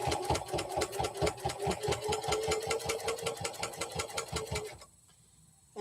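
A sewing machine stitches through layered fabric in a rapid, steady mechanical chatter of needle strokes, close and loud, stopping abruptly near the end.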